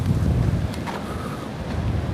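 Strong wind in Sherwood Forest, Nottingham, England, buffets and roars across the microphone in a continuous low rumble, with no voices.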